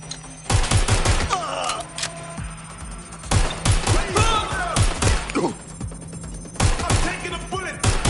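Rapid bursts of video game gunfire crackle loudly in several clusters, with sharp repeated shots and brief pauses between volleys.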